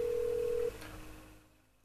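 A phone keypad tone in GTA 5 sounds as a bomb is detonated: one steady electronic beep held under half a second, then a faint decaying burst that fades into near silence.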